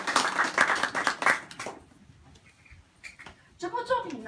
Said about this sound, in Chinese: 我们再给 Adi 一个热情的掌声好吗？